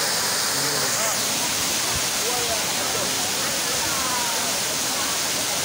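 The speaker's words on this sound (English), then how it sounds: "we are here at King Tampa Waterfall" Kintampo waterfall roaring steadily, a dense unbroken rush of falling water filling the whole stretch, loud and close, with faint voices buried under the noise.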